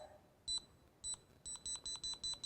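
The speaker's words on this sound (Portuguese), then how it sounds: "O bip representa que tem metal por perto." A handheld wall detector scanning for metal, PVC pipe and nails in wood or concrete gives high, sharp electronic beeps: two single beeps, then a quick run of evenly spaced beeps, close and clear over faint background hiss.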